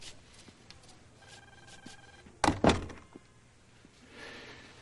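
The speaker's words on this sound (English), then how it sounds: "Shut the door." A door shuts in an office with a single solid thunk near the middle, brief and fairly close, set against quiet room tone with no talking.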